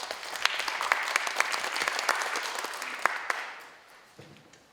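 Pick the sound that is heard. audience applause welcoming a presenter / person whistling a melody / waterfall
audience applause welcoming a presenter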